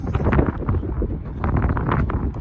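Wind gusts buffet the microphone with low, rumbling thumps for a couple of seconds, rough and close.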